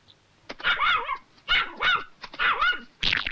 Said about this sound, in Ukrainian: Ну ж бо назад, Даксе. Молодець, Даксе. Спробуймо ще раз. Апорт